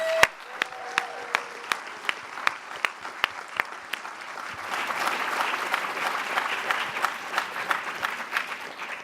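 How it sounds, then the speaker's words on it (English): An audience at a panel event on the future of working applauds, building from scattered claps into steady, dense applause with a few louder claps standing out near the front. "Can we have a huge round of applause?"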